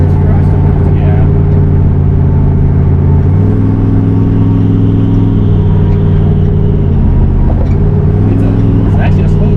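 LS V8 engine in a Ford Fairmont built like a drag car, a loud rumbling idle with a deep steady low drone and occasional shifts in pitch, heard up close throughout while people talk over it.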